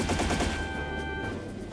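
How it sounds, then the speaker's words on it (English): An orbital gun firing in a game cutscene, rapid pulsing shots for about a second, loud and close, fading into a steady rumbling drone with a faint tone. "An orbital gun."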